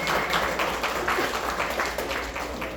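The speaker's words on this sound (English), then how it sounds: "a round of applause for my dad" Audience applause and scattered clapping at a stand-up comedy show, a steady dense wash of hands lasting the whole moment, fairly loud and with no talk over it.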